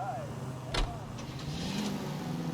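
Car engine in the LA Noire video game, idling and rising briefly with mechanical whirs and a short burst, heard beneath someone talking.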